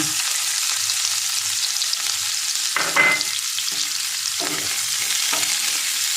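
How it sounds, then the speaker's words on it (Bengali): Onion frying in oil after a cumin tempering, a steady loud sizzle broken by a few scraping stirs, heard close with no talk. "এবার আমি পেঁয়াজটা দিয়ে দেব।"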